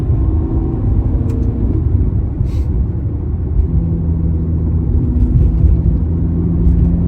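A Ferrari GTC4Lusso T drives along with a steady, deep low engine rumble and road noise, holding constant with brief higher tones briefly rising above it.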